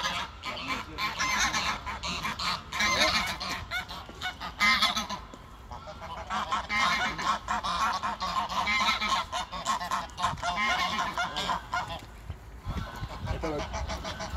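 Geese honk repeatedly and loudly over a busy, noisy background, their calls overlapping with some talking nearby, as a goose is released into water during a gosling rescue.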